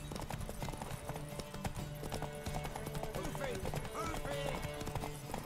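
Horse hooves clip-clop steadily with an occasional whinny in The Witcher 3, set under game music while voices talk throughout.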